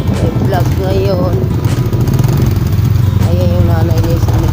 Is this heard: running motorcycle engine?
yes